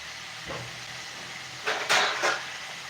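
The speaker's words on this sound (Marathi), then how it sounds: "कढाई छान गरम करून घ्यायची असं बाजूने तेल घालायचं" Oil poured into a hot kadhai for a dry brinjal dish sizzles in a few short hissing bursts, rising loudly near the middle and then fading, with no talking.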